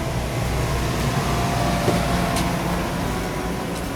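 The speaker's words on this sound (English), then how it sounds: "you heard the compressor kicked in" A steady, broadband mechanical hum and whir of a motorhome air conditioner compressor running continuously, with faint engine rumble underneath.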